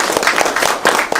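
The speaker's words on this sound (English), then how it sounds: "So let's give Ashley a round of applause." Applause at an awards ceremony for second-place winner Ashley Martin, a brief burst of many hands clapping together in a dense, steady patter.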